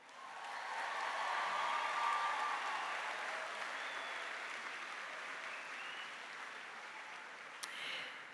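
A large crowd at a high school graduation applauding steadily, a dense wash of clapping that swells early and slowly fades, with a few faint cheers.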